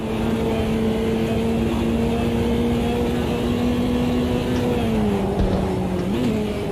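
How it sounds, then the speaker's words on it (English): Race car engine in Automobilista 2, a sustained high engine drone holding a steady pitch, then dipping as the car lifts off and re-accelerates near the end, with faint crackles from backfires and no talking. "The backfires there were just incredible."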